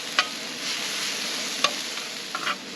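Steaks sizzle steadily on a Tembo Tusk Skottle griddle, a constant hiss with a few brief sharp clinks or scrapes of a utensil, close and with no talk.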